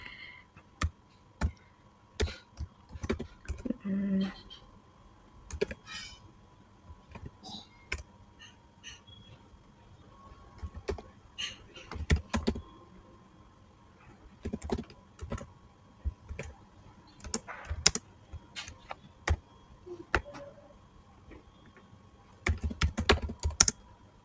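Computer keyboard typing in irregular clusters of sharp clicks over about twenty-four seconds, with pauses between bursts, close and moderately loud over faint background hum.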